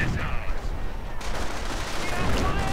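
Rapid bursts of gunfire and explosions crackle through a video game battle between US and Wehrmacht forces, with artillery and tank fire, a dense continuous barrage under a commentator's voice.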